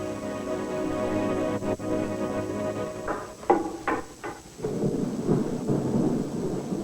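Thunder from lightning bolts in a thunderstorm, with a loud, close burst of rumbling cracks in the middle over a steady wash of rain.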